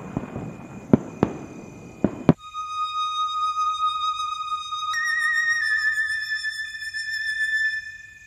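Fireworks: several sharp bangs and crackles in the first two seconds, then a long rising whistle and sustained tonal hiss to the end, with no voices.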